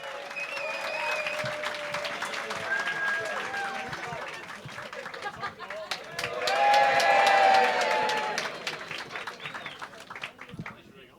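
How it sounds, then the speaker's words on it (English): A comedy club crowd in Liverpool claps and cheers as a stand-up comic is welcomed to the stage, with a host talking loudly over the noise and the cheering swelling to a peak midway before fading. "Start clapping. And cheer for Joey Page, everyone."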